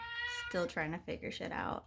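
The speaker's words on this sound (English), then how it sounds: "That's my cat. He wanted to say hi" A house cat meows several times in quick succession, close and fairly loud, with a person speaking over and between the meows.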